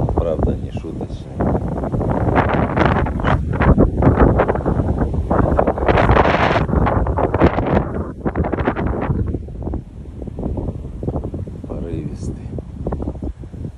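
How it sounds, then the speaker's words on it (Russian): Strong wind buffeting the microphone outdoors, a loud continuous roaring rush with gusts that swell and ease, and a person's voice briefly heard through it. "Ветер, правда, не шуточный."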